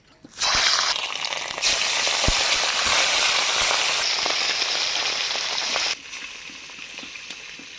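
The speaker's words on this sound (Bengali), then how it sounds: "মাছগুলো এবার সর্ষের তেলে ভেজে নেব তেল খুব সুন্দরভাবে গরম হয়ে গেছে এবার মাছগুলো ভেজে নিচ্ছি" Fish frying in hot mustard oil in a home kitchen gives a loud, steady spitting sizzle that lasts several seconds, then drops to a quieter crackle. No one speaks.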